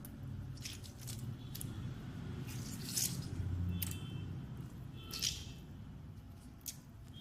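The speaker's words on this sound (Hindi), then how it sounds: "और इसको बहुत अच्छे तरीके से निचोड़ना है।" Salted bitter gourd (karela) is squeezed by hand to press out its water, giving soft, wet squelching and crinkly rustling with a few sharper bursts. The sound is close and fairly quiet, with no talking.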